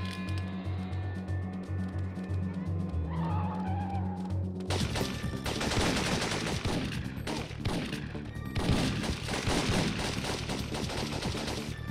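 Shotgun fire in the game Syphon Filter 2, a burst of loud sharp blasts and impacts after a low droning opening, repeating over several seconds amid game action noise.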